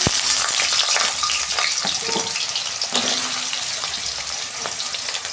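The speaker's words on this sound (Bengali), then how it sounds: "তেল গরম হয়ে গেছে, প্রথমে আমি আলুটা ভেজে নিচ্ছি।" Potato pieces fry in hot oil in a wok, with a steady loud sizzle and crackle running throughout and occasional sharp pops and scrapes from stirring.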